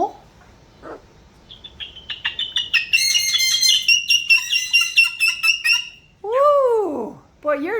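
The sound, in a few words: pet bird Sunni squawking loudly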